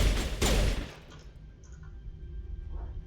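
Gunshots from a weapon in Mass Effect, a loud close burst of rapid fire in the first second that then drops to quiet background ambience.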